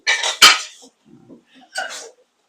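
Metal spoon scraping and clinking against a pot while onion paste is stirred for chicken gravy, a few short, close, clattering bursts separated by brief quiet gaps.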